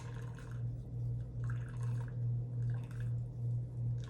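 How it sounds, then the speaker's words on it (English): Homemade almond milk is wrung through cheesecloth, giving soft wet squishes and a pulsing dribble of liquid in rhythmic bursts, close up and fairly quiet. "You want to take the cheesecloth and squeeze it. See how much milk comes out"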